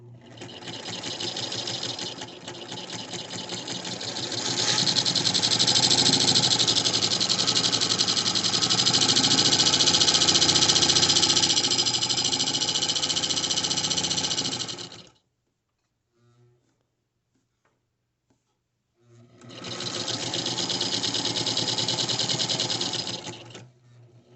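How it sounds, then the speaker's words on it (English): A sewing machine stitches down a crossbody purse strap, running in a long continuous buzzing whir that slows and speeds slightly, stops for a few seconds of quiet, then starts up again. "you're going to stitch down this line all the way down your strap, and I'll do that right now"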